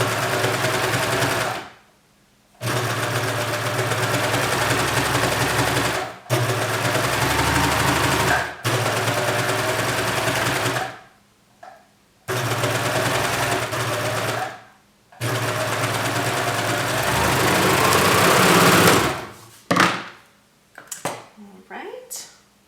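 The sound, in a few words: sewing machine stitching shirt garment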